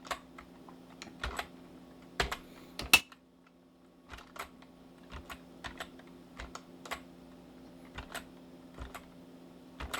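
Computer keyboard keys pressed together as 8-dot braille chords, Perkins-style, in irregular clusters of sharp clicks with brief pauses between them, close and fairly quiet over a faint electrical hum.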